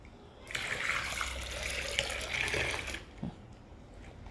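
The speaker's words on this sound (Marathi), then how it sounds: "तर आता हे गार पाणी घालते ह्याच्यात" Cold water is poured from a jug into a bucket of shampoo-foamed water, a close, steady gushing splash lasting a couple of seconds before trailing off to faint drips.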